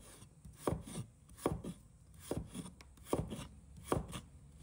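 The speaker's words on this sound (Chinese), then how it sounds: "1块生姜，也把它切成片" A kitchen knife slices a piece of fresh ginger on a cutting board, about six firm chops spaced in an uneven rhythm, close and clear with no talking.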